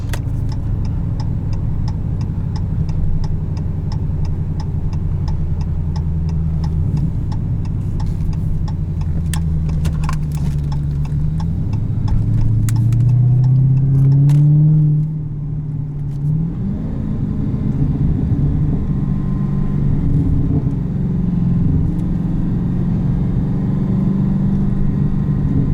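A supercharged 2016 Dodge Challenger Hellcat with an automatic transmission is driven, and its engine drone rises and falls through gear changes under a high supercharger whine, with one strong rev swell near the middle.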